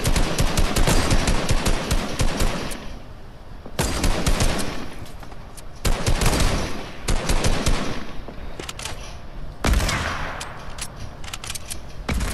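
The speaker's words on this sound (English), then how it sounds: "Oh, there's someone shooting at us." Rapid automatic gunfire in a Fortnite match, loud bursts of machine-gun shots separated by short pauses, with no talking over it.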